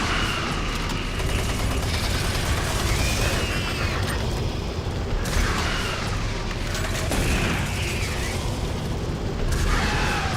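Loud, sustained gunfire from the Doom 3 video game, a dense unbroken barrage of rapid shots with heavy booming blasts layered throughout, filling the whole stretch with no speech over it.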